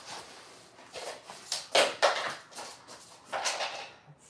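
A dog bounces a ball on a hard floor again and again at an uneven pace, the thumps faint and somewhat distant in a quiet room.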